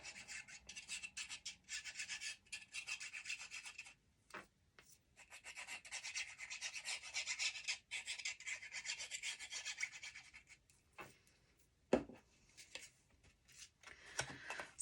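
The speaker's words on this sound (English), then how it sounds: "just rub some glue" Glue rubbed along the edges of a paper cupcake birthday card gives soft, close, dry rubbing and rasping strokes in uneven bursts with brief pauses and a single sharp tap; no voices.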